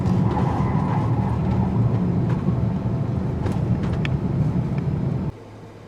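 A 2019 Chevy Blazer under way in all-wheel-drive sport mode, giving a steady loud drone of engine and road noise inside the cabin with some faint rattles, before the sound drops suddenly to a quieter rumble near the end.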